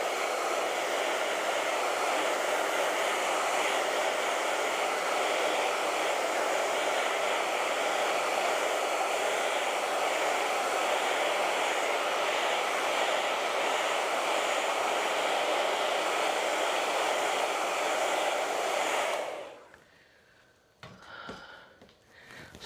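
A hair dryer blows steadily and loudly close by while drying an acrylic painting, a constant whooshing roar that cuts off near the end, leaving faint handling noises.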